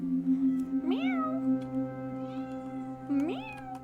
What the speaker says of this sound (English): She came, made some noise, and left. She's like, meow, meow, meow, meow.